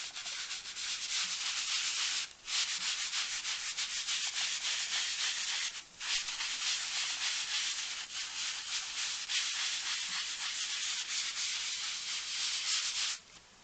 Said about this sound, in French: je prends de l'éponge là et je frotte tout doucement